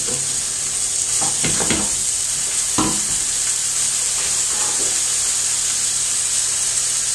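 Bacon fries in a pan with a little fat for a Guinness steak pie sauce, a loud constant hissing sizzle with a few brief stirring scrapes, no talking.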